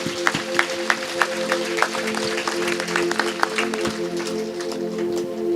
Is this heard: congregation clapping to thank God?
yes